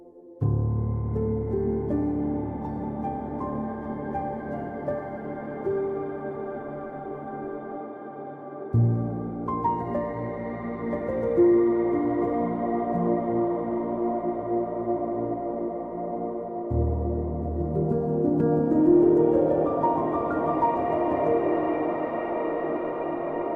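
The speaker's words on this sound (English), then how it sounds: "using the shimmer reverb from Keyscape, they have this shimmer wash preset" Low notes played through the Keyscape shimmer wash reverb preset bloom into a huge, sustained wash, with upper shimmer tones rising above. New chords swell in every few seconds and the layers build to a dense, massive pad, with no voices.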